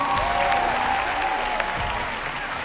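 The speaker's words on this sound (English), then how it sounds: "Another round of applause for the worshippers' hub." An audience applauds the worshippers at a choir awards show in Abuja, a steady wash of clapping that holds evenly throughout, with a faint sustained musical tone lingering beneath.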